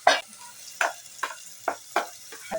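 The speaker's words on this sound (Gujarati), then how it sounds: "આપણો ઓળો વઘારેલો થોડોક વઘાર છે" Oil crackles as mashed eggplant sizzles and is stirred in a pan on a wood-fired clay stove, with six sharp bursts spaced evenly and close by, no talking.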